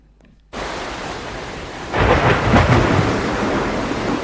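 Sudden steady downpour of rain in Maharashtra, then a loud rolling rumble of thunder swells over it and lingers, the rain continuing heavily throughout.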